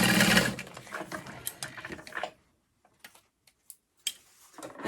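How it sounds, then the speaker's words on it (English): Sewing machine stitching across the top of a fabric bag, a dense steady whir for about two seconds that stops, followed by a few faint clicks and taps. "then again kind of eyeball here, and then sew across the top."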